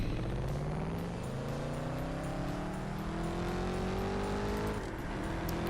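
In the CSR2 mobile drag racing game, a drag car launches and accelerates hard on nitrous, its engine note rising steadily through the gears as a loud, sustained synthetic roar, with one brief dip near the end.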